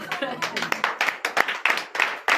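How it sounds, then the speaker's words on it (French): Worshippers at a night deliverance prayer service in Comè, Benin clap together in a quick, steady rhythm, close and lively, with voices calling out over the clapping. "Donnez l'acclamation à Jésus."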